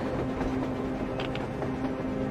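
Train rumbling past in the video game Metro Exodus, a steady loud rolling drone with a low hum and faint rhythmic clatter, heard alone.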